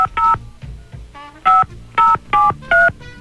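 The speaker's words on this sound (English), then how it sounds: "Let's dial him up" A series of telephone keypad dialing tones, six short dual-tone beeps in an uneven rhythm, clear and close with no talking.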